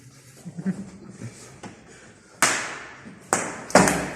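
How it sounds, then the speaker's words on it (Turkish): A slipper slaps down hard on a table in a rowdy indoor slipper fight, two sharp loud smacks close together after some quieter shuffling and murmuring. "Masaya vuruyor"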